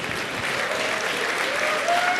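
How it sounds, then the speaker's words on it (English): Steady audience applause at a tech conference session, a dense, even wash of many hands clapping at moderate volume throughout, with no break. "Let's all clap for the death of IE6."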